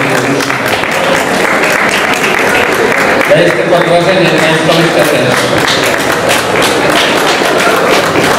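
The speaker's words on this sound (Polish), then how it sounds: "Wielkie brawa" Applause from an audience at a Polish school Education Day ceremony as talented students are thanked, steady clapping throughout with a speaking voice over it.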